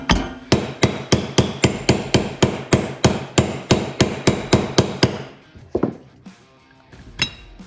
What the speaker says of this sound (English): And then we got a 1 7/16 socket and extension so I can put this race down in there.